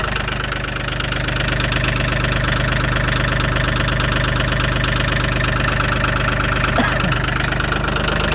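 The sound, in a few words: Mahindra 1635 HST tractor idling after cold start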